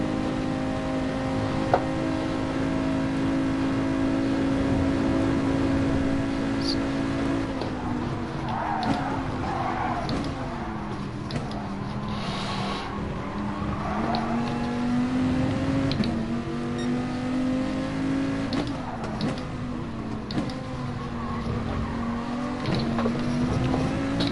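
A Nissan race car in GT Sport at an FIA Manufacturers Le Mans event, its turbo engine droning steadily, then climbing and falling through repeated revving pulls with faint whines and gear changes over about twenty seconds.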